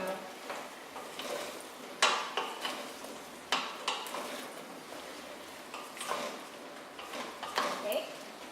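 Pumpkin pieces tossed with butter and olive oil in a pan or bowl, giving a run of soft clinks, stirring scrapes and faint sizzle-like rustling at an irregular pace, fairly quiet and close.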